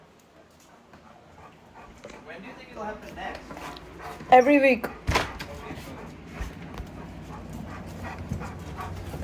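A dog pants and whimpers indoors amid a lively gathering with building friends, its sounds mixed with a door knock or bump and people talking throughout.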